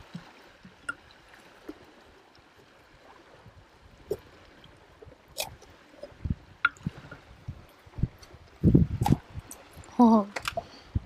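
Water dripping and gurgling from an opened inflatable dinghy being repaired while cruising, scattered close drips and squishy splashes growing busier toward the end, with faint voices in the background.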